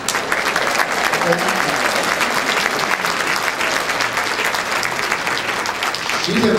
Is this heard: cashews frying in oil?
no